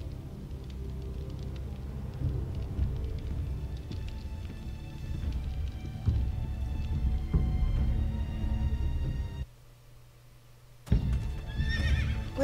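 A horse neighs in the Game of Thrones video game, a loud whinny over clip-clopping hooves and game background sound, with a brief drop to near quiet before the noise returns.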